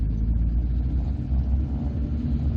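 A 1989 Volvo 240 2.0 GL Estate with 235,000 miles runs in a steady, low rumbling idle, close and continuous with no voices, its tone slightly tired.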